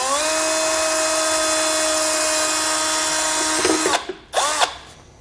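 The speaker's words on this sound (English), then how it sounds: "we're just going to drill a small hole through it" A power drill whines steadily at high pitch for several seconds, then bogs down and cuts out in two short bursts as it bores a small hole through a rubber grommet.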